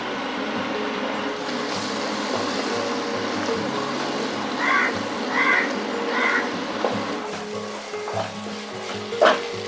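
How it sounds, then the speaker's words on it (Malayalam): Ground coriander leaf and mint paste sizzles in oil while being stirred, a constant close frying hiss with occasional utensil scrapes, no speech, with faint dog-like barks briefly in the background. "ഇനി അരച്ചു വച്ചിരിക്കുന്ന മല്ലിയിലയും പുതിനയിലയും ചേർത്ത് നന്നായിട്ട് ഇളക്കി അത് എണ്ണ തെളിയുന്നിടം വരെ ഇളക്കണം"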